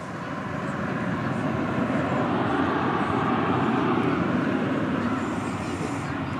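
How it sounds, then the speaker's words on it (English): An Airbus A321 airliner lands at Dallas Fort Worth airport, a broad steady engine roar heard from a distance that swells slightly and holds throughout. "It's an Airbus A321."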